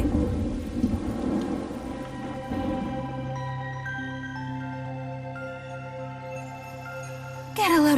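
Thunder rumbles over steady rain in the Tales of Xillia 2 video game, a dense stormy wash with a low sustained roll, a soft melodic tone humming underneath and a sharp brighter burst near the end.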